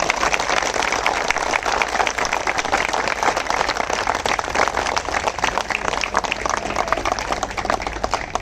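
A crowd at a live public gathering claps continuously, a thick, even patter of many hands at steady loudness throughout, with a faint low rumble beneath.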